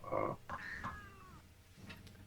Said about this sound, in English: Is that my cat?